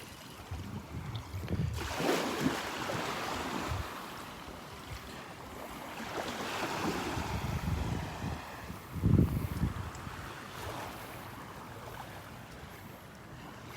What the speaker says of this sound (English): Let the waves push them around. The waves are our friends.